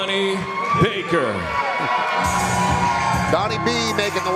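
Hometown fans cheering and whooping in the Virgin Theater in Las Vegas as a fighter walks out at a Tuff-N-Uff cage fight, a lively crowd roar with individual shouts and a commentator's voice over it.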